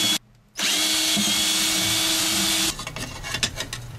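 A power drill whines loudly for about two seconds, boring screw holes for a TNC enclosure in an electronics box. A short burst comes first; the steady run then gives way to rattling and clattering as the bit winds down.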